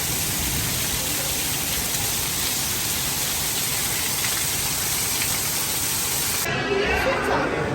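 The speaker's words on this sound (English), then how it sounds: "It's raining a little bit." A continuous soft hiss of light rain falls at Hollywood Studios in Orlando, even and steady, with no other prominent sounds.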